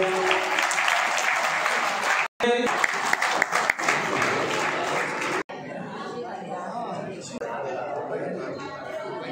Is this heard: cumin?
no